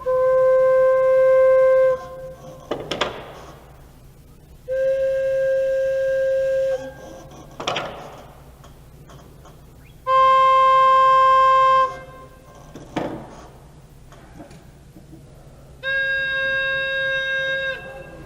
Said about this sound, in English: I'm going to blow into 4 pipes. They all look and sound different